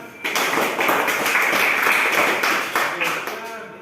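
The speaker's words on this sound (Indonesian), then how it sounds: "Beri tepuk tangan" Clapping from a class audience at an automotive engineering teaching assessment, a dense burst of hand claps that holds steady for several seconds before thinning out, with some voices mixed in.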